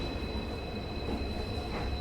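Rajasthan Sampark Kranti Express running toward Jodhpur Junction, heard from inside as a steady rumbling roar with a faint high whine, continuous and moderately loud, with no talking.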